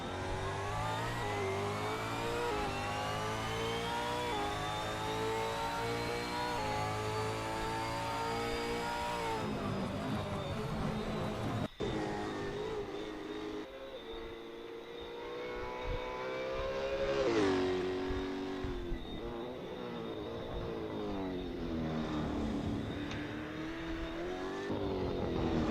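A Supercar race car engine in a sim racing game revs and shifts at the Adelaide street circuit, with rising and falling pitch sweeps, gear changes and steady high-revving drone, moderately loud throughout.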